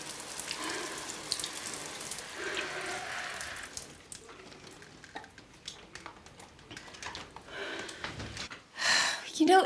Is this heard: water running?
yes